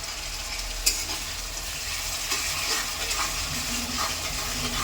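Masala spices for a fish curry fry in a pan with a little added water, giving a steady close sizzle with faint stirring scrapes and one sharp clink near the start.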